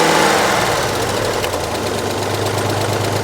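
A 2.5 liter KV6 V6 engine runs rough, a steady close drone with an uneven, knocking pulse and no talk over it.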